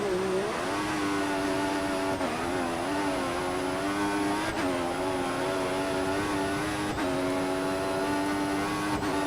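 Formula 1 race cars in the video game F1 2014, Austria circuit: a high, sustained engine whine rising through gears with sharp pitch drops at each shift, another car running close alongside.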